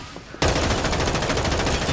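Heavy gun firing in a mobile battle royale shooter, a sudden loud burst of rapid shots that keeps going without a break, close and harsh.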